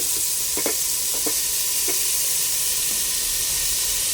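Garlic and ginger sizzle steadily in a hot pan, a constant bright frying hiss with a few soft scrapes of a spoon stirring, no voices.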